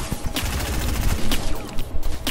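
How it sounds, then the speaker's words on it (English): Gunfire in a Fortnite match, a loud, close, uneven run of rapid shots with several sharp cracks standing out over about two seconds, no talking. "They're shooting at me"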